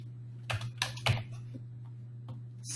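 A few scattered keystrokes on a computer keyboard while entering categories into an administrator form, sparse clicks over a steady low electrical hum, without speech.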